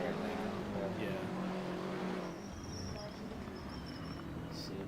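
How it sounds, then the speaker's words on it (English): Race car engines droning steadily through a sim race around the Nordschleife, a loud continuous multi-car roar that eases slightly partway through, with faint chatter mixed underneath. "Engine noise is basically too high compared to the voices."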